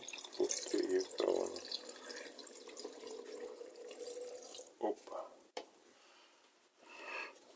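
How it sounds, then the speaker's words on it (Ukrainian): Water pours onto plums and sugar in a container for homemade plum wine, a close splashing trickle that stops partway, followed by a few knocks and quieter drips. "Отак насипали цукру і водички."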